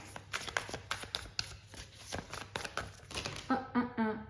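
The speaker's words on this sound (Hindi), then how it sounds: "एक और कार्ड भी हम पुल करते हैं" A tarot card is drawn from the deck with a run of soft, close papery flicks and taps, followed by a brief murmuring voice near the end.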